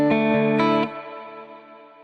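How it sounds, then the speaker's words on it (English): Guitar chords run through a heavy reverb setting on a Sonicake Pocket Master pedal: a couple of struck chords, then a long, washy tail that fades slowly, with no voices. "This will be a pretty heavy reverb"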